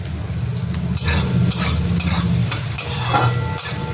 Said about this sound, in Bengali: একটু গাজরটা একটু ভালো করে আমি ভেজে নিয়ে